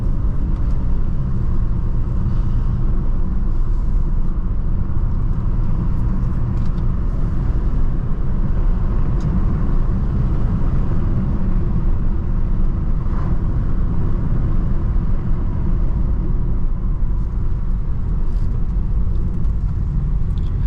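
Cabin drone of a BMW E90 328i being driven, a continuous deep rumble of engine and tyres over the road surface, even in level and close, with no voices.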